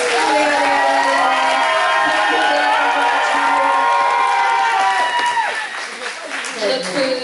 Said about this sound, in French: C'est un applaudissement un peu plus fort